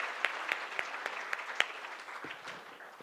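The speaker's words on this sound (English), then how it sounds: "big round of applause for everyone who has contributed to" Scattered applause from an audience at an orientation programme, moderately quiet, with sparse distinct claps standing out over a thin clapping texture that fades toward the end.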